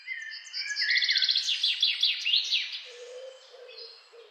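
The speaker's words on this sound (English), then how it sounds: "It speaks through the trills and the song of the birds." Several birds singing outdoors, rapid bright trills and chirps overlapping in a lively burst, then easing into a softer lower call, clear and fairly close with no voices.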